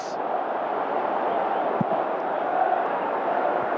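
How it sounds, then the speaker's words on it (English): A video-game football stadium crowd roars in a steady, dense wash of noise, with no single shout standing out. "you can feel and hear how the crowd are reacting to all of this"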